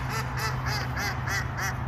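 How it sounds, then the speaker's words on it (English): Geese honking at a park pond, a run of about six evenly spaced nasal calls close by over a steady low background rumble. "I believe those were the geese making the sounds."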